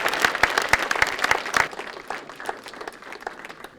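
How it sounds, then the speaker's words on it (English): An audience at a school science fair applauds the high school winners. Sharp, distinct claps ring out at first, then settle into softer, thinning clapping that fades over a few seconds. "big round of applause for those high school students"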